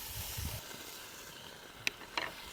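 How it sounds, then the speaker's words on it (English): Bacon sizzling in a cast iron Dutch oven over a campfire: a soft, steady hiss of frying fat, quiet and close, with a couple of brief sharper crackles near the end. "sounds like it's starting to sizzle a little bit more"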